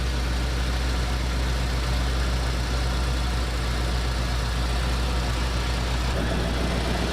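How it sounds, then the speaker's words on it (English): A car engine fitted with an Aces Killshot EFI system runs at a steady high idle, a smooth, continuous close-up drone with no breaks and no talking. "Listen to how smooth that thing is running. Even at the high idle, it's running just fantastic."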